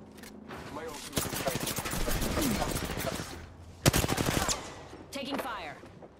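Rapid automatic gunfire in a shooter video game, bursts of fast cracks that run for several seconds, pause, then return in shorter volleys, loud and close.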